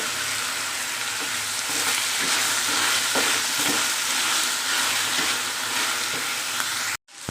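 Tomato and leafy greens (soppu) frying with eggs in a pan, a loud steady close sizzle with faint stirring scrapes, cutting off abruptly near the end, no voices.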